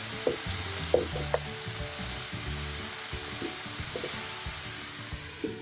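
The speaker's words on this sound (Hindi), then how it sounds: "तो अनियन को हमें कम्प्लीटली कुक कर लेना है जब तक वो सॉफ्ट नहीं हो जाती, ट्रांसलूसेंट नहीं हो जाती।" Onions fry in a pan until soft and translucent, a steady close hiss of sizzling oil broken by a few sharp scrapes and knocks of stirring, beneath faint background music.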